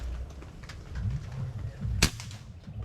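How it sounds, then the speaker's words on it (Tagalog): An air rifle fitted with a scope fires a single shot at a target 25 to 50 meters away: one sharp, fairly faint crack over quiet outdoor background. "Firing."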